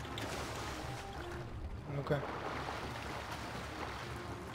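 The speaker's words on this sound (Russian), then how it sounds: "Вот этот катер-то покруче будет." A speedboat in GTA 5 Online, its engine a steady low drone with water wash around it, moderately loud, while someone says a brief word.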